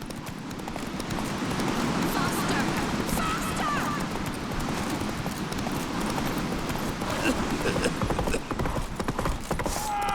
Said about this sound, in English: Roach is the fastest fucking horse in the land.